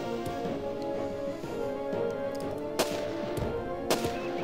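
Gunshots ring out in the video game Jagged Alliance 2: a couple of sharp, isolated cracks a second apart, standing out over a steady bed of game ambience and music.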